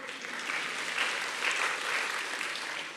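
Congregation clapping during an Indonesian church sermon, a sustained patter of many hands heard at moderate level with slight swells, steady throughout and without speech on top.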